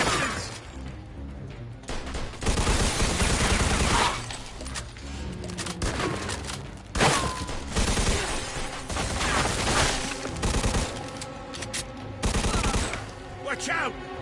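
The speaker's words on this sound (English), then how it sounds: "They're shooting from up top!" Heavy gunfire in the Mafia II Definitive Edition game, sustained bursts of automatic and pistol shots with crashing impacts, loud and dense, with voices shouting over the shooting at times.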